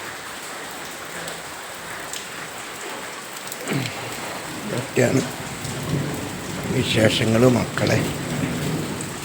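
Steady monsoon rain pours down on a flooded home, with low rumbles of thunder rolling through; someone talks briefly over the downpour toward the end.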